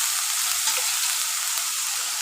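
Onions sizzling in hot oil in a pan for a Hyderabadi khatta dal, a steady loud hiss and crackle close up, alone with no talk.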